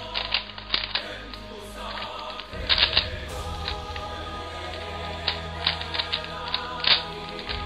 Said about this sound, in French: lorsque je fais le cube, on a l'impression que les coins en fait ils s'entrechoquent